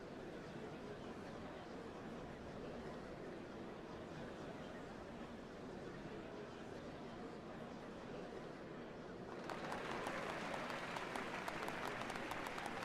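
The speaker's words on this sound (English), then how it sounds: "What a crowd!" Crowd applause in FFXIV Dawntrail, a dense steady wash of clapping that swells louder near the end, with no voices above it.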